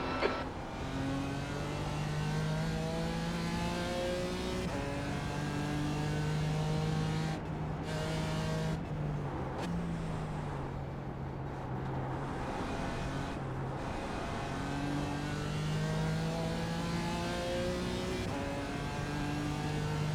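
A BMW production race car in the iRacing sim on a wet Oulton Park circuit, its engine revving hard through repeated rising gear pulls and brief lifts, loud and continuous without speech.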